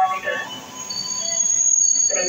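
A Tokyu 8500 commuter train pulls into Kranji station with metallic wheel squeal and high tonal whines over low rumble, close and building toward the end.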